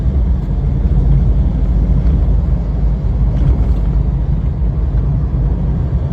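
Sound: pickup truck turbo diesel engine running

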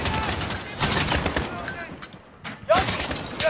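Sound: gunfire in Call of Duty Modern Warfare video game

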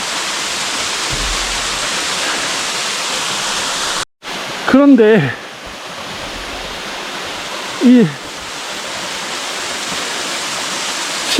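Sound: waterfall at Bogyeongsa valley, Naeyeonsan, Pohang

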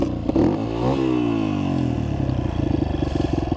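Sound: motorbike engine revving at full throttle

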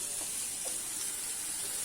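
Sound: onions and potatoes sizzling while being fried in a pan

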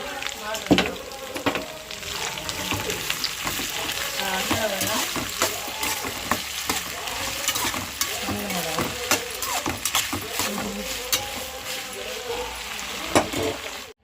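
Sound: eggplant frying in a pan

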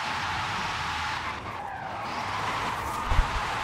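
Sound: Porsche Taycan Turbo S drifting, tires skidding, video game Forza Horizon 5

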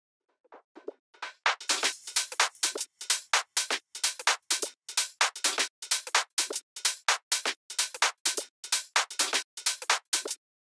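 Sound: drums in the break of a remix

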